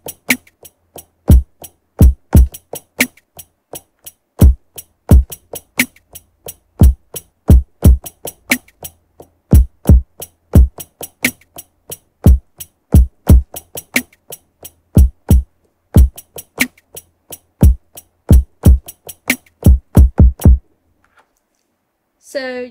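A lo-fi neo soul drum pattern plays alone, with punchy kicks and snares under a busy, tricky hi-hat rhythm, looping steadily for about twenty seconds before stopping.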